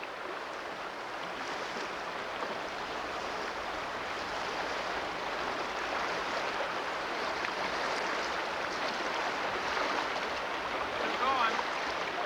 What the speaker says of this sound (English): now we're going to go down this little stream right here